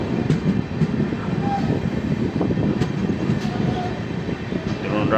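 The 13126 Sairang Kolkata Express passenger train rolls slowly out of Goalpara Town station at night, giving a steady rumbling carriage noise with faint rattles and clicks heard from inside.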